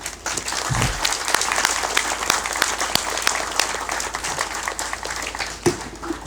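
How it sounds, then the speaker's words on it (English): An audience claps at a clinic's grand opening, a full, even round of applause from a crowd at moderate distance, with a few sharper individual claps standing out. "You all deserve a round of applause."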